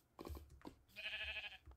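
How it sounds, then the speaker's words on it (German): Sheep bleat in Minecraft, several short bleats followed by a longer, wavering one, moderately close and alone with no talk. "Ah, jetzt kommen die Schafe"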